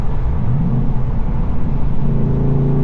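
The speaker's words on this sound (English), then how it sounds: "That's the 5th gear pull." Ford Mustang Dark Horse accelerating hard in fifth gear, a loud, close engine drone that rises steadily in pitch, with no talk.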